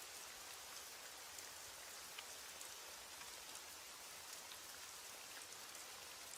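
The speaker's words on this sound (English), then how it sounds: "As the rain falls and the night deepens" Steady rain falls at night, a soft, even hiss of drops on surfaces with no pauses, faint and continuous, with no voices.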